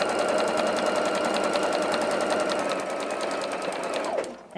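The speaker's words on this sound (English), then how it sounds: "And now I'm going to sew out to the outside." Close, loud, continuous machine stitching runs along a fabric seam on a pieced hex star quilt block, sewing out from a Y-seam point. The rapid needle rhythm holds steady, then stops abruptly right at the end.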